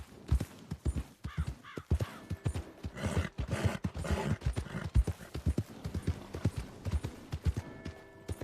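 Horse hooves clip-clop in the video game Red Dead Redemption 2, a brisk irregular run of close, sharp thuds with a brief whinny-like sound mixed in, no speech over it.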